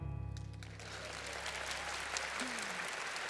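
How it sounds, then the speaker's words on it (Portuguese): Women in the audience at a Catholic priest's talk on marriage break into steady, dense applause that rises right after a voice and carries on, with a brief voice cutting in near the end. "Eu estava brincando, mas elas aplaudiram mesmo."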